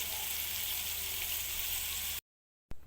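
Chicken pieces frying in medium-hot oil until crispy give a dense, steady sizzle that runs close and loud, then cuts off abruptly into silence before a brief return at the end.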